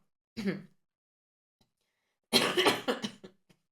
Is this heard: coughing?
yes